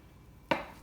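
A kitchen knife cuts once through soft mozzarella down onto a board, a single quiet close-up thunk with a brief soft tail after a hushed pause.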